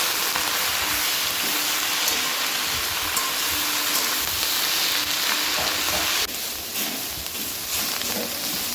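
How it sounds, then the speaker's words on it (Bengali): Neem leaves frying in a pan for a Bengali home-cooked dish, giving a steady, close hiss of sizzling oil that carries on without pause and turns slightly quieter near the end. "নিম পাতাগুলো ভাজা হয়ে গেছে"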